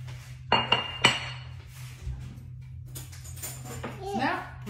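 A fork clinks against a bowl a few times while stirring and sifting flour for apple fritters, with light scraping and people talking over it.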